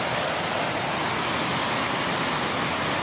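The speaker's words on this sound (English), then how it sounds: "The main waterfall pouring out the bridge there." Ashgill Force waterfall pours near a bridge, a dense, constant roar of rushing water, loud and steady with no pauses.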